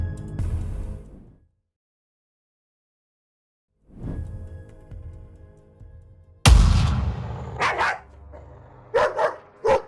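A dog barks sharply several times in quick bursts, loud and close, after a quieter stretch with some low rumbling sounds.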